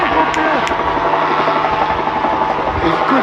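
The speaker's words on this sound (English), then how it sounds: "What are these things doing? Helicopters." A helicopter flies overhead with a steady, loud rotor drone throughout, while people talk over it.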